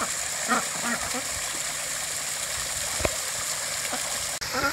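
Backyard pond waterfall fed by a VivoSun 310 watt pump, heard as a steady, full rush of falling and splashing water that is close and continuous, with a few faint background sounds and small splashes.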